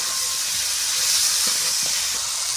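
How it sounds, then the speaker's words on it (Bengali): Turmeric powder and onion paste sautéed with salt in a pan for a four-vegetable dish give off a steady, close, even hiss of sizzling that runs the whole time with no one talking. "হলুদ গুঁড়ো, পেঁয়াজ বাটা দিয়ে কিছুক্ষণ কষে নেব,"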